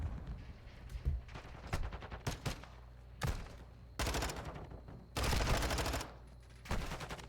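Bursts of automatic gunfire from a Modern Warfare II gunfight come in dense volleys, some long and loud, others shorter and scattered, with heavy overlapping shots throughout.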